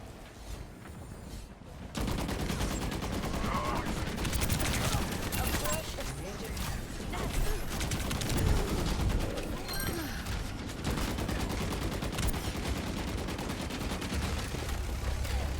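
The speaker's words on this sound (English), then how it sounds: "I was shooting right into them and it wasn't making any acknowledgement that I was shooting." Overwatch gunfire rattles in rapid, dense bursts of shooting, loud and continuous after a short quieter opening, with a voice talking over the battle.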